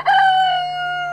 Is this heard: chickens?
yes